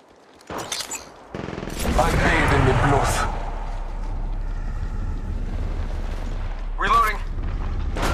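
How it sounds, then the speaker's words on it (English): Gunfire from the mobile shooter Apex Legends Mobile on an iPad: a loud, dense burst of shots and impacts fills the middle of the clip, with sustained game noise and a later short volley. "Oh, shots fired and they're hitting me."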